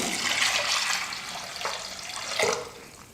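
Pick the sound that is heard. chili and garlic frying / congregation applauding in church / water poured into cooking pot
water poured into cooking pot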